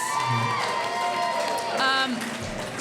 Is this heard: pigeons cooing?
no